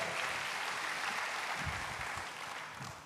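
Congregation clapping together in a church service, a steady broad wash of applause filling the room and lasting throughout before tapering slightly at the end.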